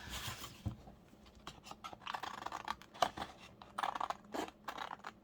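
Scissors cut a paper scrap for a junk journal, a few close, quick crisp snips and scratchy rustles of paper in short bursts, with no talking.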